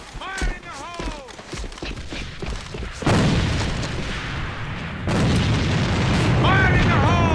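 Grenade blasts in the online shooter A.V.A during a match, two heavy booms with rumbling decay under excited voices talking over each other.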